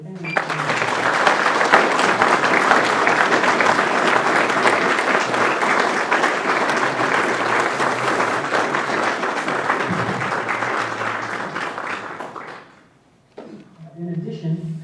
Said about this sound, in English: Please join me in a round of applause for the candidates.